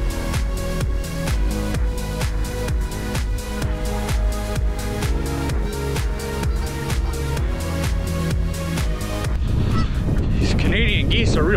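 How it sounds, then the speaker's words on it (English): Geese honking on a muddy trail at Water Works Park in Des Moines, heard over a steady musical background with a burst of louder activity near the end. "Geese are real trail hogs."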